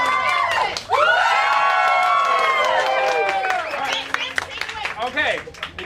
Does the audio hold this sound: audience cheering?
yes